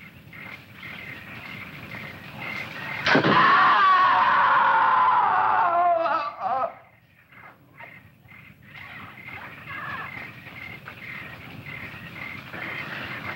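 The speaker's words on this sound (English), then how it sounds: "I heard a scream." A sudden, loud, high scream cuts in and holds for a few seconds before breaking off abruptly, with quieter rustling noises after it.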